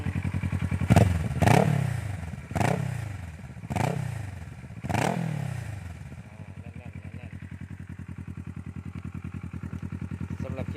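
A Kawasaki ER6N ABS motorcycle engine revs sharply five times in quick succession, each burst falling back, then settles into a steady, close idle.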